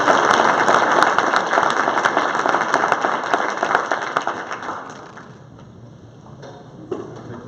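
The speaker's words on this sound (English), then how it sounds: "So let's welcome, give a big round of applause, Mr. Dan Gear." Audience applause for a conference keynote speaker, dense and steady clapping for several seconds, then fading out into quiet room tone near the end.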